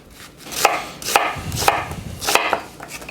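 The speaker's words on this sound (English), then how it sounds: "I'm gonna slice my onions" A knife slices onions into medium slices on a cutting board for a Spanish tortilla, five or six crisp, evenly spaced chops, close and clear, with no talk.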